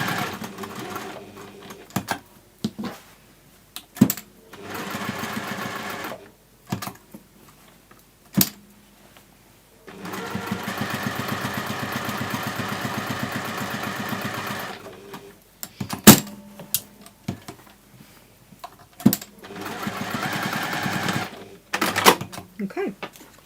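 A sewing machine runs in repeated bursts as it stitches around a fabric gift bag, with long steady runs broken by pauses and clicks while someone talks between passes.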